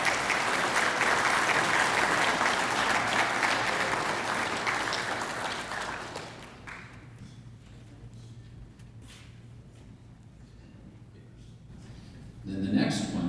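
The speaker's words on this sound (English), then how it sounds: "let's give Homer a round of applause" An award-ceremony crowd at a national show in Logan, Utah, gives a round of applause: loud, dense clapping for about six seconds that tapers off into a quiet room, with a brief noise near the end.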